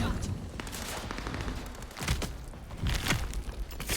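Gunfire in the action video game Vampire: The Masquerade - Bloodlines 2, several sharp shots and bursts cutting through a busy, dense game mix, with a voice talking over it.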